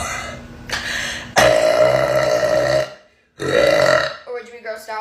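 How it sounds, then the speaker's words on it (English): A woman lets out several long, loud burps in a row, each a drawn-out guttural croak with short pauses between them, ending in a choppier, broken series of shorter belches. "if your girlfriend burped louder than you"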